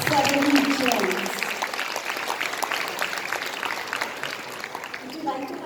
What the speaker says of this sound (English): can we have a big round of applause for all our 7 gems?